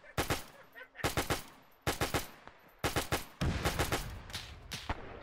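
US .30 cal machine gun in an ARMA 3 WW2 beach landing, firing suppressive bursts: several short, sharp strings of rapid shots, loud and close, with brief pauses between them.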